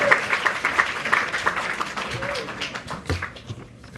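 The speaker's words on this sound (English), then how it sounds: "Please give him a round of applause as he does the closing." Audience clapping at an evening app launch and art exhibition, a crowd's applause with quick overlapping claps that fades toward the end, a voice faintly mixed in.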